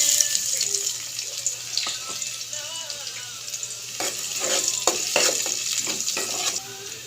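Garlic and ginger sauté for a Filipino corn soup, giving a soft, steady sizzle close by, with stirring and utensil clatter rising toward the end.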